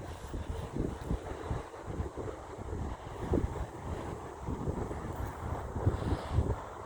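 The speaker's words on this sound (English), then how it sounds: "It's very windy out here." Strong wind blowing outdoors in a cemetery, buffeting the microphone with a continuous low rumble and gusty thumps, fairly loud and steady with no talk.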